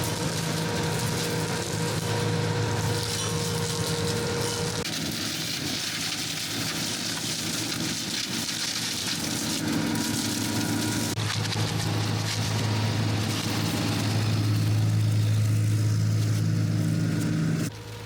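A tractor-mounted flail hedge cutter drones steadily throughout, with a low mechanical whir and harmonic hum, near and continuous, the pitch shifting slightly as the load changes.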